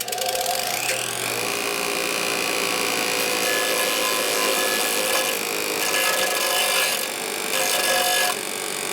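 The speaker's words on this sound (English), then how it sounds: "That's a fine grinding disc" A fine grinding disc cuts a chamfer into a 1947 Harley-Davidson EL knucklehead 74ci engine case, a loud, steady high-pitched grinding whine that continues for several seconds with slight shifts in tone.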